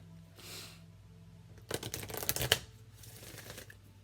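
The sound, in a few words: shuffling Enchanted Map Oracle cards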